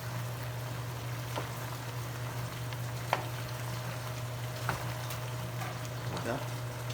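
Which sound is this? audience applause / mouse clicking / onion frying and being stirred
onion frying and being stirred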